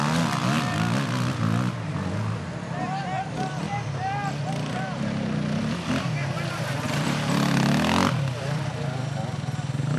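An enduro motorcycle engine revs and strains continuously, loud and close, at the Erzberg Rodeo 2012 Hare Scramble, under a commentator's talking and crowd noise.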